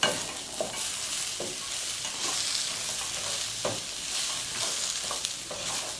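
Hot buttered mushrooms with leeks stirred in a pan, a steady bright sizzle with repeated scraping strokes of a spoon at irregular intervals, close and moderately loud, no voices.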